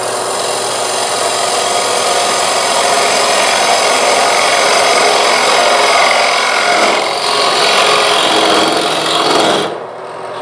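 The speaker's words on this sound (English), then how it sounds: "Back to my skew chisel because I want a square shape in here also." A skew chisel cutting into wood spinning on a lathe while turning a hollow vessel, heard as a loud continuous rasping, shearing hiss close by that holds steady for several seconds before fading out.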